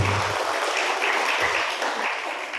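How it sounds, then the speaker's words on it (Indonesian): A crowd applauds for teachers at a school district gathering, a steady wash of clapping at moderate distance, even and continuous, with a couple of low thumps early on. "Tepuk tangan untuk para guru-guru."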